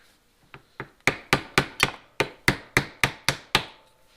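Sharp rhythmic knocks as a screwdriver is struck to free the shaft from a Chevrolet Cobalt steering rack on a bench, two light taps followed by about ten strong, evenly spaced metallic blows, close and with no talking.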